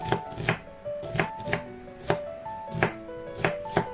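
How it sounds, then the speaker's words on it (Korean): Knife slicing acorn jelly and onion on a cutting board, about ten crisp, evenly spaced chops close up, alone without talk. "도토리묵을 먹기 좋은 크기로 썰고 양파를 썰어줍니다."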